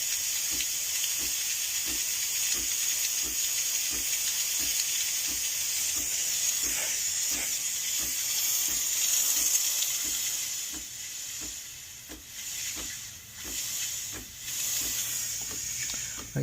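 A faulty DeLonghi espresso machine with a bad water pump lets out a steady high hiss of runaway steam, close and continuous, over a rapid regular ticking pulse from the machine, with the hiss wavering toward the end.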